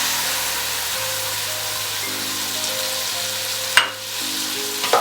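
Sausage (linguiça) frying in a pan, a steady sizzle with low hum underneath, a brief sharp clatter near the end as it is stirred, no talk.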